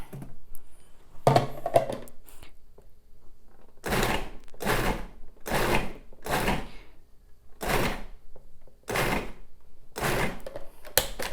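A blender pulsing mint tamarind chutney in short repeated bursts, about eight rhythmic whirs with brief silent gaps between, preceded by some handling clatter.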